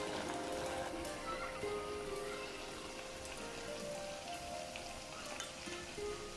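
Bhajias crackle and sizzle steadily in hot oil in a pan, a soft, continuous hiss with scattered pops and faint background tones.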